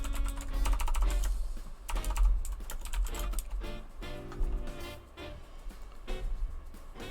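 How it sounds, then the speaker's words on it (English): Fast, uneven clatter of keys on a computer keyboard typed with one hand, close and fairly loud, running continuously with brief pauses and no talk. "Typing with one hand is a garbage thing to do."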